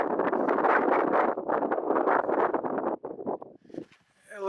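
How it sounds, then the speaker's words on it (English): Wind gusting across a dusty desert hillside on a valley climb near a waterfall, buffeting the microphone in a steady, loud rumble that eases and breaks up toward the end. "A little bit windy and dusty too."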